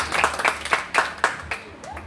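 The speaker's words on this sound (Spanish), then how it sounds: "¡Aplausos!" Applause in a small gathering, heard as a handful of distinct, evenly spaced claps rather than a full roar, close and crisp against a quiet background, with a brief voice near the end.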